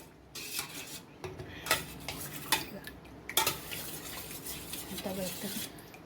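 A spoon scrapes and clinks against a metal pot while a kulfi mixture is stirred, with sharp irregular knocks and scraping strokes up close and a low murmur of the mixture beneath.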